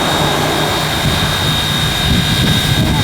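Sugarcane train steam engine revving before departure, a loud steady roar with a low rumbling throb held throughout.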